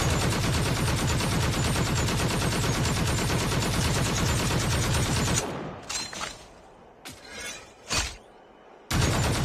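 AK-47 gunfire in Call of Duty Mobile: a long, loud, unbroken automatic burst with rapid, even shot rhythm, followed by a few shorter scattered bursts and pauses.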